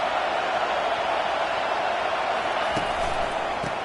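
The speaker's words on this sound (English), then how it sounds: "This crowd bringing the energy and noise early." Stadium crowd at an Oregon at Washington college football game, a steady loud roar of many voices filling the space, with a couple of faint thumps near the end.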